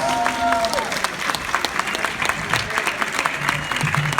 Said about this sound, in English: how about a big round of applause for Terry, Chase, and James